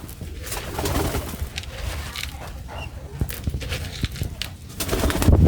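Pigeons coo repeatedly inside a loft holding pairs of Gola, Giribaj and Lotan pigeons, a steady soft murmur of overlapping calls with occasional wing flutters and thumps nearby.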